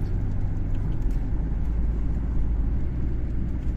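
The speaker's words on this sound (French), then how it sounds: "on entend bien le frein moteur" Steady low rumble of a Renault Clio 1 engine braking while driving, a continuous drone of engine and road noise from inside the car, with no talking.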